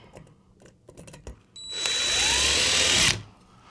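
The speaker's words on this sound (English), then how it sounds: "push it up against the ceiling, and use my driver" A power driver drives screws into the metal mounting bracket of a Hunter ceiling fan (model 59585) held against a ceiling, giving one steady high whirring burst of about a second and a half, after faint handling clicks.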